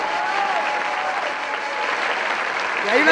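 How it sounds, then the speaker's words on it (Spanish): Festival audience at the Festival del Litoral in Posadas, Misiones, applauding steadily and loudly throughout, a dense wash of claps that swells slightly at the end. "Fuerte el aplauso es de ustedes"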